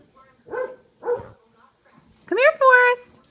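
A puppy barks and yips in short bursts: two soft barks, then a pair of louder, higher yelps close by in a quiet room.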